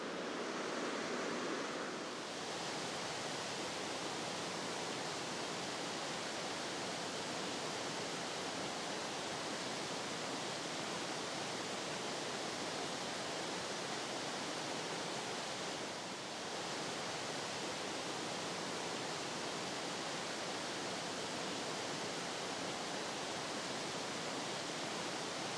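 Stream water rushes steadily on Dartmoor in winter, a dense, continuous broadband wash of flowing water that stays close and even throughout with no voices.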